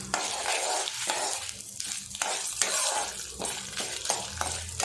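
Mustard seeds, urad dal and chana dal crackle and sizzle in hot oil for a chutney tempering, with a spoon stirring and scraping through the spitting fry at close range.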